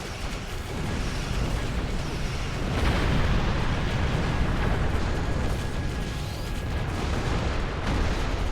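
A loud, sustained explosion in a Star Trek space game: a broad rumbling roar that swells around the third second and keeps booming steadily for several seconds, with no talk over it.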